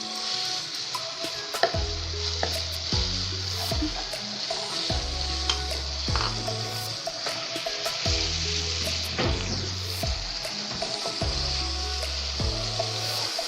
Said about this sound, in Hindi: इसको हम अच्छी तरह से चलाते रहेंगे।